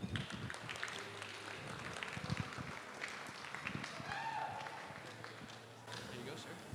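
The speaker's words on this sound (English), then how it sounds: "So let's give a round of applause." Audience at a wedding reception applauds the best man as he comes up for his speech, a steady wash of clapping with crowd noise and voices mixed in throughout.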